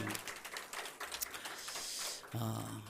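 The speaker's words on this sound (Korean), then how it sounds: "우리 하나님께 영광의 박수 올립시다." A church congregation at a Sunday worship service claps together, a steady, full wash of many hands sustained for a few seconds in a reverberant hall.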